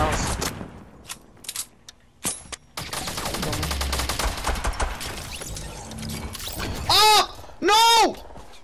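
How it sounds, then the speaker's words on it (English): Gunfire in Fortnite gameplay: bursts of rapid shots and sharp single cracks scattered across the scene, loud and close, with a player talking over the action. "Dude, where's somebody shooting at me?"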